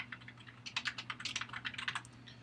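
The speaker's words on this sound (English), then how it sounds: "I can type in that name." Rapid keystrokes on a computer keyboard as a name is typed in, a quick irregular run of close, clear clicks over a low steady hum, with no voices.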